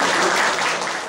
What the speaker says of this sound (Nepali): शासन सम्पूर्णले जोरदार तालीले सम्मान